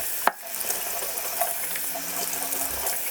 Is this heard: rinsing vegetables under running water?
yes